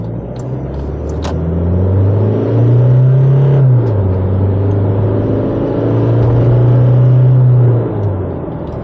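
A 2020 Toyota Hilux SR5 with a 2.8 litre diesel engine accelerates hard, its low droning note rising through the revs, dipping at a gear change, then climbing again before easing off, loud and close with no talking.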